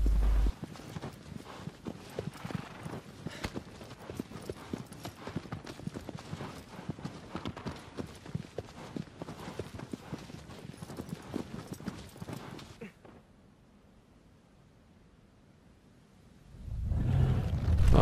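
A horse's hooves clip-clop steadily and evenly in the Shadow of the Colossus 2018 remake, then stop abruptly into near silence before a low rumble swells at the end.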